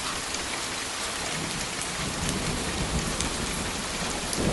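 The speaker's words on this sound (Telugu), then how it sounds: "అలా నేలంతా పైరంతా వర్షానికి పరిపరి విధాలుగా పులకలెత్తుతోంది" Heavy rain pours steadily over open farm fields, including a groundnut crop, a dense, continuous hiss with faint low rumbles beneath, loud and unbroken with no voices.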